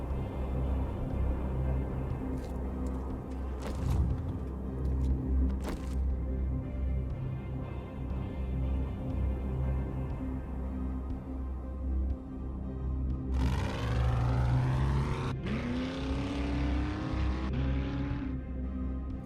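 A vehicle engine in the survival game 7 Days to Die drones steadily throughout, loud and close, with a rising whine partway through as it revs while driving, no talking.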